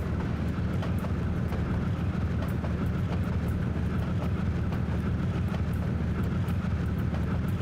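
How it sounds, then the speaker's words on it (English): Coal cars roll past in the Trainz 19 train simulator with a loud, continuous rumble and a steady clickety-clack of wheels over rail joints that repeats in an even rhythm throughout. "Look at those coal cars. They're rolling on by."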